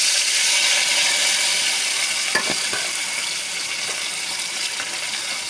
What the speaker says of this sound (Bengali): দেখুন আমার তেলটা গরম হয়ে গেছে, এরপরে আমি মাছটা ভাজবো।